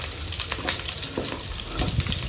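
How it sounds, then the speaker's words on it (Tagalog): Food sautéing in plenty of cooking oil, a steady close sizzle and crackle with scattered sharp pops, growing slightly louder and busier toward the end. "Tayo na natin, magigisa na tayo."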